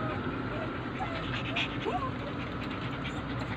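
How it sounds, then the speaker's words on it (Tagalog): A poodle whimpers and whines softly in short, high cries, heard near but faint beneath loud mall-like background chatter and a person talking. "Umiiyak si Copper kasi wala yung mami niya nasa loob"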